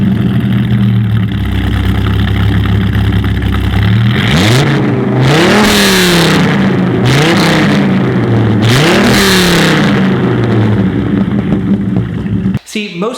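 A modified JDM-style car engine with an aftermarket exhaust idles with a deep rumble, then revs up and drops back several times in a row, loud and close, and settles near the end.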